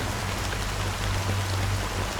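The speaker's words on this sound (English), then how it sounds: "How long has this rain been ongoing?" Rain falling in the video game Honkai Star Rail, a dense steady hiss of raindrops on surfaces with a low rumbling undertone, continuous and even throughout.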